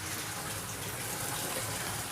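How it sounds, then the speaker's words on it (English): Tap water gushes steadily into a longnose gar aquarium tank holding a few inches of water, a continuous broadband splashing pour heard close and alone with no talk. "It's filling up. We've got about 4 inches of water in there right now."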